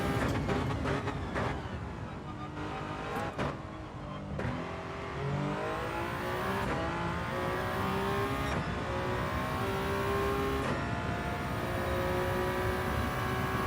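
A Toyota race car engine in the Gran Turismo 7 video game, loud and continuous, with sharp gear-shift drops early on, then long rising revs through several gears, each climb cut off by an upshift.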